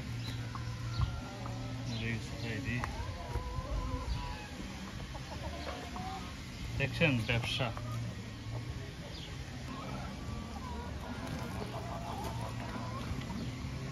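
Red chickens clucking in a hot pen, several birds making scattered close clucks and calls over a low steady hum, with a person talking briefly.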